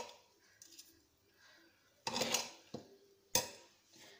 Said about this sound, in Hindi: अब हम अपने कुकर को खोलेंगे और इसको मिक्स करेंगे